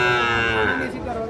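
A young heifer calf at a cattle market moos once, a loud, close, drawn-out low call that fades at the end.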